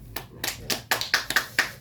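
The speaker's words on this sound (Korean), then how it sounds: "박수." A church congregation claps in a handful of distinct, separate claps spaced irregularly over a couple of seconds, fairly quiet and with no talk over them.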